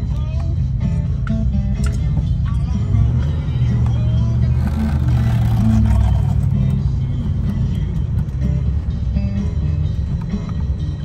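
A 1969 Chevrolet Chevelle SS with a four-speed manual rumbles loudly and steadily, its engine note shifting as it downshifts into third gear, close and continuous throughout.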